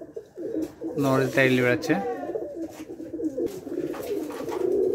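Rajshahi Giribaz pigeons coo close by in a low, rolling call repeated over the clip, while someone talks over the birds.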